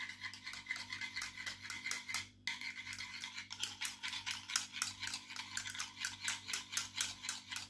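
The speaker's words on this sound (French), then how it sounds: "la crème fraîche avec le jaune d'œuf, un pas entier, bien mélanger ensemble" Crème fraîche and a whole egg yolk being stirred together in a bowl for a chicken blanquette sauce, a steady rhythmic scraping and clinking of utensil against the bowl, close and fairly quiet, with no talking.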